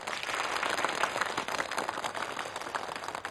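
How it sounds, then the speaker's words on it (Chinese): A room of company executives at a Christmas Eve gathering applauds visiting board members from France: dense, steady clapping from many hands throughout, fairly close and without speech. "大家掌声欢迎他们"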